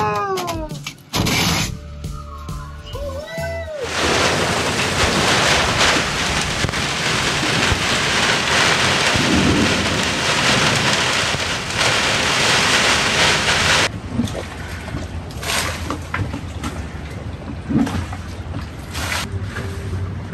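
Heavy rain drums steadily on a sailboat for most of the stretch, loud and close, with a brief rumble suggesting thunder; the downpour eases slightly toward the end.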